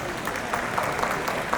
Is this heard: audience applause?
yes